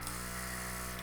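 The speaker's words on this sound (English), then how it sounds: "Compressor going." An airbrush compressor runs, giving a steady spraying hiss over a low mechanical hum, close and constant for about a second.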